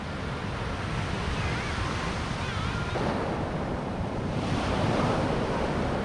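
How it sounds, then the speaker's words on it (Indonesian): Ocean waves wash steadily onto Balai Kambang beach in Malang, Indonesia, a continuous roaring surf with wind buffeting the microphone, swelling louder toward the end. "ombaknya gede banget"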